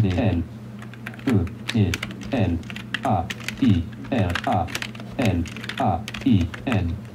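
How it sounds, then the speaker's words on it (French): Typing on a computer keyboard, entering an email address: steady bursts of key clicks with short pauses in between, close and clear, while a person talks over much of it. "on va taper mon adresse"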